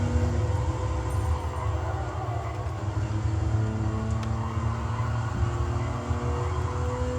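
Ferrari Enzo V12 engine in the Gran Turismo 7 racing game, a steady loud drone with shifting pitch as it accelerates, continuous throughout with no talking.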